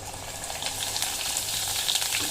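Rice flakes deep frying in hot oil for chivda, a steady dense sizzle and crackle that holds evenly throughout, close and moderately loud with no voices.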